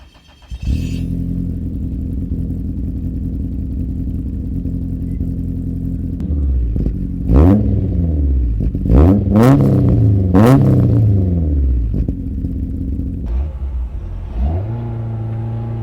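A Toyota AE86 engine idles steadily, then revs hard several times in sharp bursts before settling back to a low idle, close and loud.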